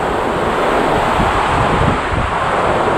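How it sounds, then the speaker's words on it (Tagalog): Strong typhoon wind from Typhoon Florita in Baggao, Cagayan, roaring steadily with gusty rumble and broad hiss, buffeting the microphone continuously throughout, with no talking. "medyo umina na yung hangin, hindi na po katulad ng kanina"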